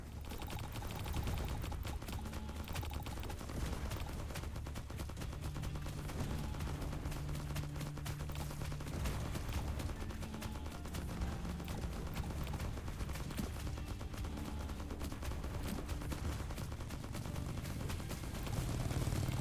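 SMG gunfire fills a zombie survival bullet heaven video game, a dense, continuous stream of rapid shots with other game effects layered throughout, loud and unbroken with no voices.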